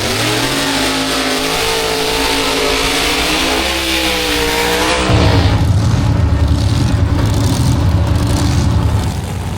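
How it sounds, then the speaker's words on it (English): Drag racing cars at a night race event with jet cars, a loud engine roaring and climbing in pitch, then a sudden shift to a harsh, rumbling blast as another car launches down the track. "Let's get back to some more racing."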